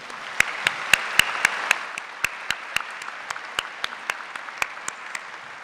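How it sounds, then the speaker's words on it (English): At a K-State graduate school commencement, a large hall fills with applause for honorees, with a steady crowd wash broken by a few distinct, sharp nearby claps in a regular rhythm. "Would you join me with applause for these individuals?"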